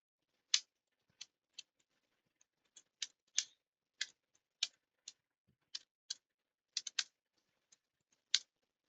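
Python code being typed on a computer keyboard: about eighteen distinct key clicks in an irregular rhythm, some in quick pairs, close and clear over a silent background with no talking.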